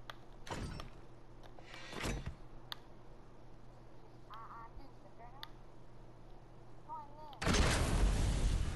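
A cannon fires in the video game Fortnite: two sharp booms early on, then a louder, sustained blast near the end, with brief chirping game sounds and faint background hum in between.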